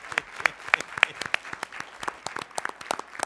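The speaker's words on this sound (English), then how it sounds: "Give them a big round of applause," Applause at a school board of education meeting, scattered individual claps standing out as separate sharp hits over a thinner crowd clapping, moderately quiet and irregular.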